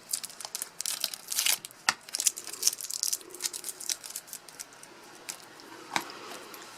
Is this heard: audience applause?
no